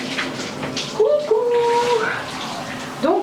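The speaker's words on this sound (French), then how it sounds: "Là mon chéri est à la douche" Water from a hotel shower runs steadily with a broad hiss, while a high, whining tone drifts over it in a few sustained notes.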